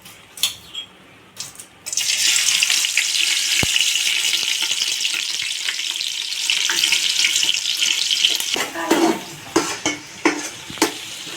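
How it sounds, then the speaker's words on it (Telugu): Onions hit hot oil and ghee for chicken biryani: after a few light knocks, a loud, bright sizzle bursts in and holds steady, then breaks into choppier bubbling with stirring near the end, with no voices. "చూసారు కదండి, ఆనియన్స్ అనేవి దోరగా ఫ్రై అయిపోయినాయి"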